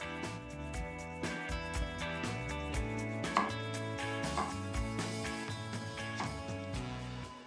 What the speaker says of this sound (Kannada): ಕ್ಯಾರೆಟ್ನ ಸಿಪ್ಪೆ ತೆಗೆದು ತೊಳ್ಕೊಂಡು ಈಗ ನಾನು ಸಣ್ಣ ಸಣ್ಣ ಪೀಸಾಗಿ ಕಟ್